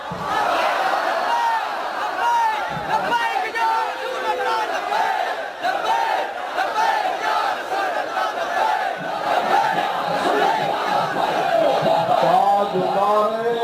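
Large crowd chanting slogans together at a religious political rally in Pakistan, many voices in loud, rhythmic call-and-response that carries steadily throughout, with some shouting mixed in.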